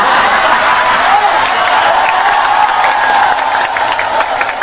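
An audience at an Islamic sermon bursts into loud, close applause mixed with some laughter and murmuring, a continuous dense clatter of hands filling the space.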